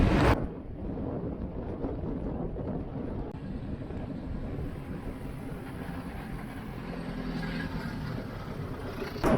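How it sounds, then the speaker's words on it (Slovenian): Strong east wind buffets the microphone as a cyclist rides into it on a cold sunny morning, a steady broadband rumble and roar lasting throughout with no voices. "Piha močnejši vzhodnik"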